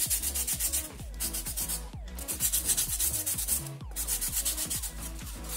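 Sandpaper rubbing along the curved edge of a styrofoam glider wing, a close, steady scratchy scrubbing in repeated back-and-forth strokes with a couple of brief pauses.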